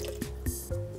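A small spoonful of lemon juice goes into a blender already holding warm water for a vegan cashew mozzarella, giving a few separate close wet drips and plops over a quiet background.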